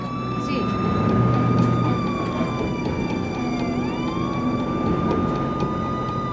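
An ambulance siren wails, rising and falling steadily over a loud, constant vehicle rumble, sounding close and continuous throughout.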